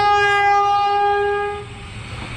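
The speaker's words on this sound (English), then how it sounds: "Hold on, the train's coming, it might beep." A passing train sounds a loud, sustained horn for about a second and a half. The horn cuts off and leaves a low rumble of rail noise.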